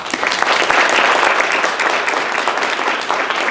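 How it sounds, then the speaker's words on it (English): Attendees at a women's business conference panel applaud loudly, a full and dense burst of clapping from a sizable crowd that stays strong throughout and eases slightly at the end. "Give them a round of applause"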